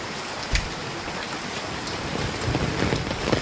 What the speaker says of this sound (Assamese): চাওক বৰষুণ কিমান গিৰি আছে